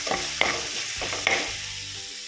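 A steady close sizzle of spice powder and green chillies frying, with a spoon scraping and stirring in a pan, two sharper clinks standing out.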